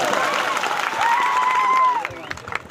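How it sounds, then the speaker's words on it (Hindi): Crowd applause at an outdoor village panchayat gathering marking World Tribal Day, steady clapping filling the clip with a tonal whistle-like sound riding over it, then thinning out near the end. "एक बार जोरदार तालियां बजाते।"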